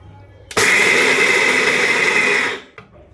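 A kitchen mixer grinder whirs at full speed for about two seconds while it coarsely grinds roasted peanuts, starting abruptly and cutting off sharply, followed by a brief rattle.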